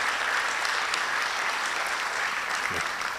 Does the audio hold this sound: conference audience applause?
yes